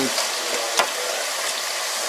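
Tortilla chips fry in hot oil with a dense, even sizzle, broken by a few faint clicks and scrapes of stirring.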